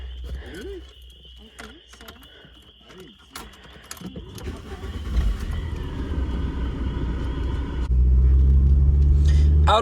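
A lowered car's engine rumbles steadily on a test drive, growing louder and heavier in the last couple of seconds as it revs, with some voices and road noise mixed in.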